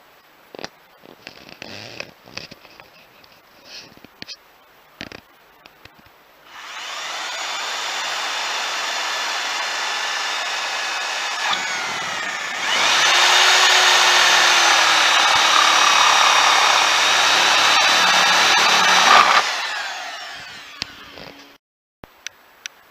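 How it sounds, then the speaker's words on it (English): A power drill bores a hole into a plastic soil pipe for a terminal coupling, running as a loud steady whine for about thirteen seconds, rising in pitch and strength halfway through, with a few small knocks before and after. "We're now going to drill a hole in the soil pipe"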